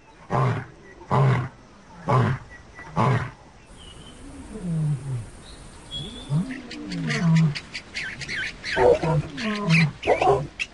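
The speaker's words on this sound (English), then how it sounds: "A lion's roar can be heard up to 8 kilometers away." A lion in the African wild roars in a series of loud, deep bursts, about four evenly spaced calls, followed after a pause by grunting and a further run of close, rumbling roars.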